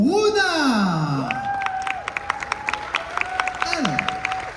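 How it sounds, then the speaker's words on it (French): An audience at a Disneyland Paris Christmas news conference claps and cheers to welcome Runa, a patter of applause carrying on beneath sweeping voices and whoops. "je vais vous demander un tonnerre d'applaudissements, beaucoup de bruit pour Runa"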